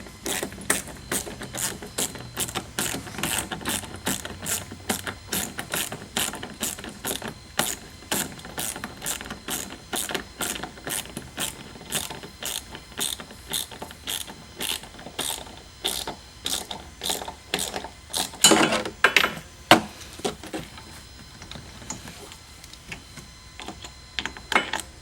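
Ratchet wrench tightening the seat bolts on a Yamaha Drive golf cart during a seat install: a long, steady run of sharp, evenly spaced clicks, close and fairly loud, with a denser burst near the end and no talking.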